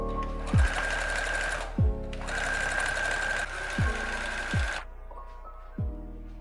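A sewing machine stitches fabric around the edge of a kitchen apron, running in long steady whirring bursts with a high mechanical whine, separated by brief pauses and dull thumps as the machine stops and starts.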